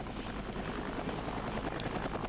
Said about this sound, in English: Let's place our rocket launcher assisted attack helicopter.